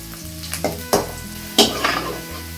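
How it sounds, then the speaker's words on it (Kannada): Onions frying in oil until brown, a close sizzle broken by several sharp utensil knocks and scrapes against the pan. "ಈರುಳ್ಳಿನ ಚೆನ್ನಾಗಿ ಬ್ರೌನ್ ಆಗುವವರೆಗೂ ಎಣ್ಣೆಯಲ್ಲೇ ಹುರ್ಕೋಬೇಕಾಗುತ್ತೆ"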